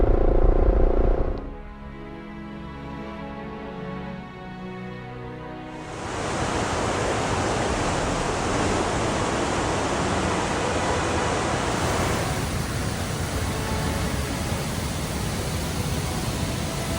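A waterfall in a mighty cavern roars as a dense, constant rush after a brief quieter opening, growing fuller around six seconds and holding loud and near to the end.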